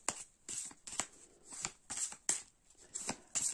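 Tarot de Marseille cards riffled and shuffled by hand in a quick series of crisp, papery bursts, close and fairly loud, with short pauses between riffles and no talking.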